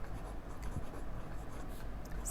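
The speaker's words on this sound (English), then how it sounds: "I'm just going to write Pro Gear after" Pilot Pro Gear fountain pen with a medium 21 karat gold nib writing on paper, a steady close scratching of the nib running continuously with a few small strokes and no voices.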